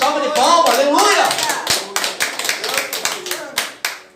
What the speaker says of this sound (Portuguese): Então, salva de palmas, aleluia!